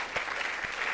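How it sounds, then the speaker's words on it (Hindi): Brief burst of audience applause at a yoga and wellness session, a dense wash of many hands with a couple of sharper claps standing out, moderately loud and lasting under a second. "एक बार जोरदार इसके लिए पहले तो ताली बजाओ"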